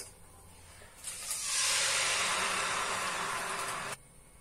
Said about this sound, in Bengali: এই ঘিয়ের উপরে এবার সুজিটাকে দিয়ে দেবো, ভেজানো সুজিটাকে দিয়ে দেবো।